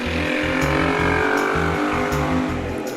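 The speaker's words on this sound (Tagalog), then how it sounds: "Kasi may dumaan na motor eh." A motorcycle passes nearby with a loud, continuous engine roar and a fast pulsing low-frequency beat, filling the whole moment without any speech.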